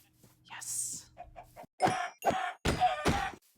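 Chickens in the video game Minecraft clucking in short bursts, mixed with brief game sounds and a voice talking over them.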